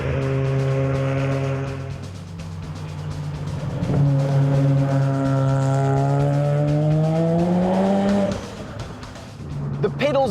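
A lightweight rotary-engined car accelerates hard, its high buzzing engine note holding steady and then climbing in pitch through a long rising pull, loud and close, before easing off near the end.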